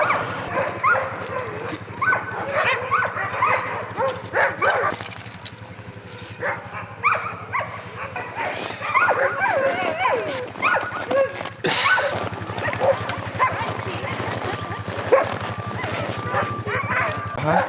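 Sled dogs in Canada being harnessed before a sled run, barking, yipping and whimpering excitedly in a busy, overlapping chorus that continues throughout, with some people talking.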